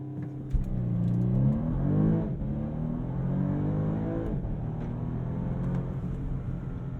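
A 2022 Bentley Flying Spur Hybrid with all-wheel drive launches hard in a 0-60 run, heard from inside as a deep rising engine surge that climbs through the gears with a shift dip partway, then settles into a steady loud whir.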